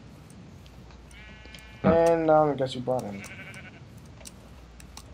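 A sheep in the Minecraft video game bleats in a loud, wavering burst of several quick cries, the blocky animal's call rising over quiet ambience while someone speaks nearby.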